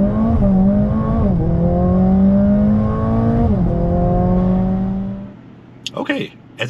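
A 2023 Mercedes-AMG A45 S 4Matic+ launches hard with launch control in race mode, its engine note climbing loud and strong through rising gear sweeps with brief shift dips before fading and cutting off near the end.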